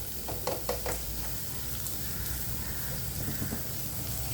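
Garlic, onion and green chili sautéing in a pan for an egg dish, a steady close sizzle with a few clinks and scrapes of a spoon early on, no voices.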